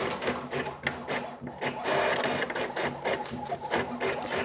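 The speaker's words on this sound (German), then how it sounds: "Ich habe mir auch beim Drucker ganz ehrlich noch nie um die Lautstärke Gedanken gemacht. Drucker sind halt einfach nicht leise." An HP OfficeJet Pro 9010 inkjet printer prints close by with a loud, steady mechanical whir and rapid rhythmic clacking as the print head shuttles back and forth.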